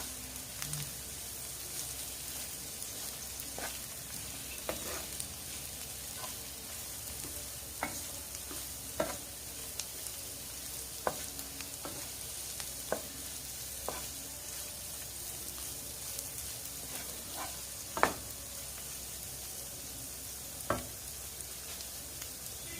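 Vegetables and green chilies sautéing in a pan: a soft, continuous sizzle runs under frequent sharp clicks and scrapes of stirring at irregular intervals, close by, with no talking.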